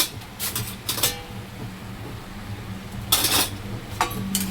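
A spoon clinks and scrapes in a pan while spiced vegetables with salt, turmeric and coriander powder are stirred, in a few short metallic bursts with quiet gaps between them.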